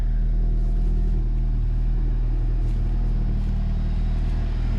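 A turbocharged B20B engine in a Honda Civic EG hatchback drones steadily from inside the car while driving, a loud, constant low rumble throughout.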